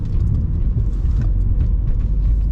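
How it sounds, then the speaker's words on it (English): Low, steady road rumble inside a moving 2017 Mercedes-Benz C200 Coupe in comfort mode, a constant deep drone of tyres and engine with no breaks. "as you can hear the road noise"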